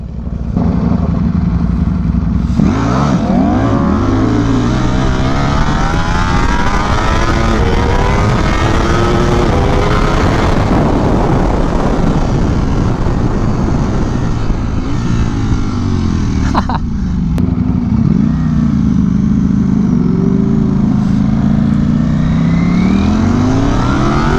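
A Ducati Streetfighter V4S and rival superbikes race side by side, their engines revving loud and close with repeated rising and falling throttle sweeps through the gears, as voices call out briefly over the riding.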